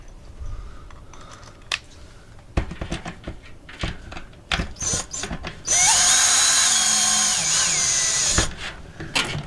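A crank handle turns the lift mechanism of an RV roof vent lid, with scattered clicks and knocks before a loud, steady whirring grind takes over for several seconds.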